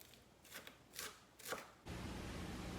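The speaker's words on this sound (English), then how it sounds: "As I'm chopping the iceberg lettuce" A knife chops through iceberg lettuce in three soft, crisp crunches about half a second apart, faint and close, before a steady hiss of background noise takes over.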